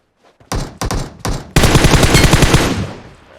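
Gunfire in the mobile game PUBG Mobile: three sharp, loud single shots followed by a sustained rapid automatic burst that fades out, with no speech.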